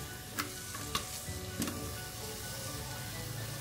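Steady oil sizzle of a small onion frying, with a few light utensil clinks near the start.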